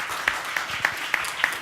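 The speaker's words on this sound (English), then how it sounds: "You don't have to clap." An audience at a heritage storytelling gathering gives a brief, light patter of applause: five evenly spaced, soft claps from a small group of people, close to the microphone.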